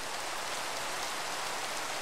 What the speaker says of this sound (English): the most annoying fucking thing shows up on my fucking Minecraft. Rain.